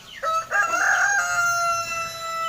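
A big rooster of about two kilograms, kept by a Hmong household in the highlands, crows one loud, drawn-out cock-a-doodle-doo close by, with faint chicken clucking in the quiet farmyard around it.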